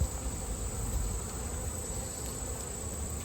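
Honey bees crowd a hive frame in a weakly populated colony, giving off a steady, dense, close hum that stays constant throughout with no talking.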